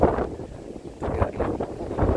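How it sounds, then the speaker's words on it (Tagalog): Wind blowing outdoors on a street, gusting in uneven bursts of rough buffeting noise against the microphone, fairly loud and with no talking. "Sarap ng hangin guys."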